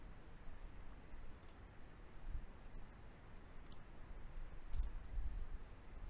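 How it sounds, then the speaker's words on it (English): Three faint, sharp computer mouse clicks, spaced a couple of seconds apart, over quiet room hiss. "And click on add category."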